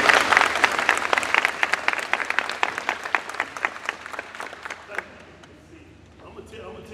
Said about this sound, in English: Now, let's give them a round of applause.